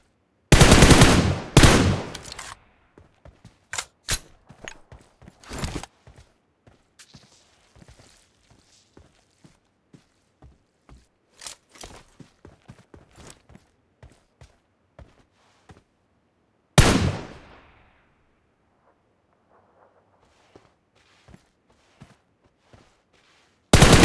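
Gunfire in the mobile battle-royale game PUBG Mobile: a loud opening burst of automatic fire, then scattered single shots and footstep taps, a second sharp burst later, with gaps of near silence between.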